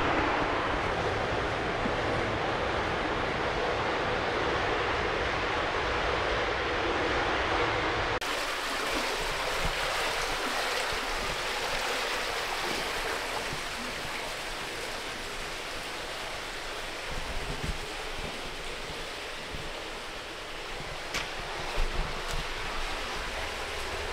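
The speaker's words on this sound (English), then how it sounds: "Up this end, you've got a kind of waterfall-y thing. So there's just all this amazing sound." Water gushes like a small waterfall inside an underground storm tunnel in Melbourne, a constant, loud, rushing wash echoing in the enclosed space, with a few faint knocks near the end.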